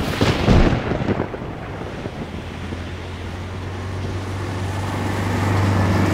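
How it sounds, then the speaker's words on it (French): Heavy rain and thunder at night on a motorway, a radio drama effect: a booming rumble opens, then a dense steady roar of wind-driven rain persists, with a low engine-like drone swelling toward the end, no voices. "Il fait nuit et il pleut hyper fort."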